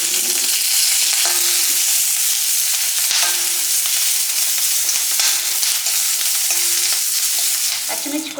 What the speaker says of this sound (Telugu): పచ్చిమిర్చికున్న వాటర్ మొత్తం పోయిన తర్వాత కొద్దిగా నూనె వేసుకొని ఫ్రై చేసుకుందాం.